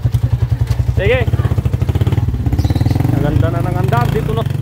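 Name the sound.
motorcycle engine revving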